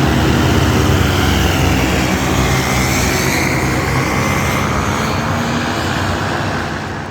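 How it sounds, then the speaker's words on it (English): A group of powered paraglider engines drones loudly and continuously as the pilots fly down a runway at a fly-in, a dense buzzing blend of motors that holds steady and fades slightly at the end, with no talking. "Listen to that symphony of engines."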